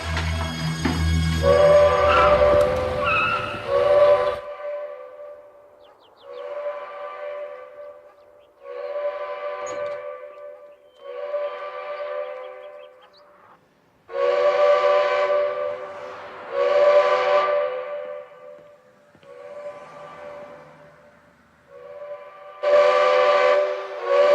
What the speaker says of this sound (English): Sound the powerhouse whistle.